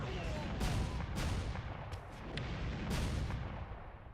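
Repeated booming cannon blasts in a video game, several heavy shots spaced irregularly over rumbling battle noise, fairly faint overall.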